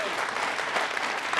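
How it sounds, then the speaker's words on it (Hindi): An audience in a televised courtroom-style talk show claps steadily, a dense burst of applause filling the short moment with no talking. "इसलिए लोग तालियां बजा रहे बैठे"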